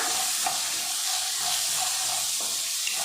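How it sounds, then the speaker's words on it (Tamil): Chickpeas sizzle in a hot pan with a steady hiss while a spoon scrapes and stirs, with soft clicks against the pan now and then. "சுண்டலை சேர்த்துட்டு நல்லா கலந்து விட்டுடலாம்."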